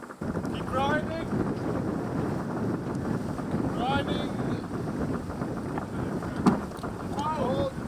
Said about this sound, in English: Wind has picked up as predicted